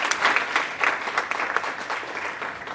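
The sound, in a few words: audience applause for Dean Joanna Gomez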